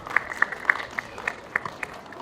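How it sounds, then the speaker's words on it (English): Sparse audience clapping at a live event, a few distinct claps spaced irregularly, fairly faint against a quiet room. "So a round of applause, ladies and gentlemen."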